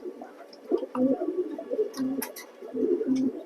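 A male racing pigeon coos excitedly in repeated throaty bursts, close and fairly loud, with a few sharper chirps from other birds nearby.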